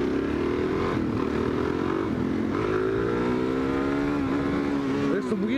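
A motorcycle engine revs and pulls through wheelies on a road, its loud droning tone rising and falling in pitch over several seconds, with wind rush close to the rider.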